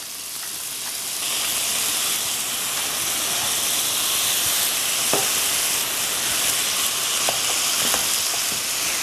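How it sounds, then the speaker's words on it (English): Beef browns in a pan with a constant, close sizzle and hiss that builds after the first second and holds steady, with a few faint clicks from stirring. "as I'm browning the beef, I'm just going to season it with just a little bit of salt"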